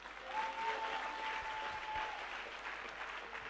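A church congregation applauds steadily, a continuous wash of clapping that holds at an even level throughout, with a faint tone sounding briefly in the background.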